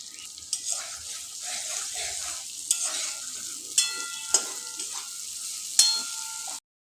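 Turmeric and coriander powder fry in a pan with a soft, steady sizzle while a spoon stirs, adding a few sharp scrapes and clicks before the sound cuts off abruptly.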